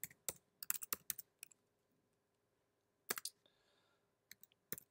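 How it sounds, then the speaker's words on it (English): Typing on a computer keyboard: short bursts of crisp, close key clicks separated by quiet pauses, with no talking. "so I'm going to type wizard here."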